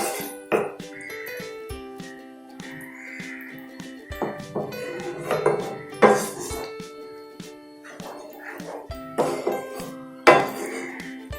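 A spoon clanks and scrapes against a metal pot while chicken curry gravy is stirred with added water and salt: irregular clinks and knocks over a steady hum, with no talking.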